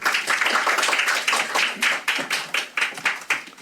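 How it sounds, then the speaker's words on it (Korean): A small audience at a National Assembly forum on digital assets claps, dense at first and then thinning into a few scattered, distinct claps near the end. "모두 박수로 환영해 주시기 바랍니다"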